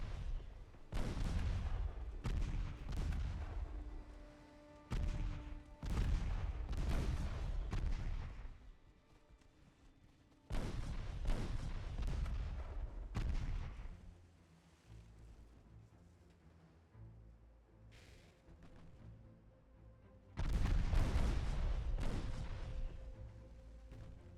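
Warship main guns firing in a naval battle game, a series of heavy booming salvos in irregular bursts with rumbling decay between them, loud and close, with no talking.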